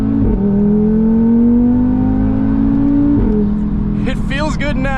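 Audi RS3 engine heard from inside the car while driving, a loud steady drone rising slowly in pitch, a shift near the three-second mark, then a voice speaking over it toward the end.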